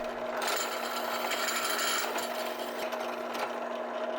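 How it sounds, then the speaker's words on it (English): A power drill bores through pre-drilled holes in a metal camera arm mount clamped to the arm in a garage, giving a steady high motor whine with gritty cutting noise close by, continuous for several seconds. "I then clamped the mount to the arm and then drilled through the same holes so that I could line them up perfectly."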